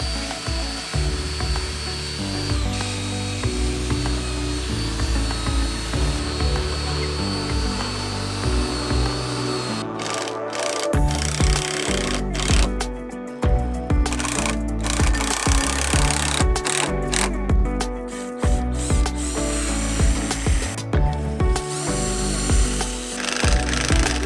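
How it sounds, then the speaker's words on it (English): Power sander grinding against curved wood pieces while building a house, a loud continuous whirring roar that shifts in pitch and pressure throughout, steady and close with no voices. "Now we actually have a sander here,"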